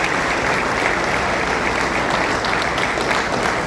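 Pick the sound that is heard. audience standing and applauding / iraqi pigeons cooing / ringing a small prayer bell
audience standing and applauding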